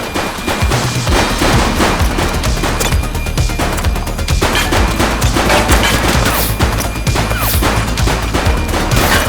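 Dense, loud gunfire in a police action video game, rapid overlapping shots and automatic bursts forming a continuous barrage.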